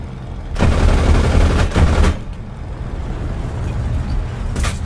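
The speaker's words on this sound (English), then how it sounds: "I then fire onto his oncoming path" Aircraft cannons firing in War Thunder, a loud sustained burst of rapid gunfire for about a second and a half with a short second burst, then engine drone and a brief final burst at the end.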